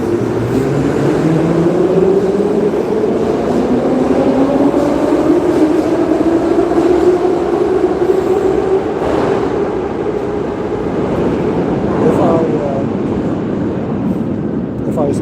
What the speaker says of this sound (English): either because of the noise or because I am in the train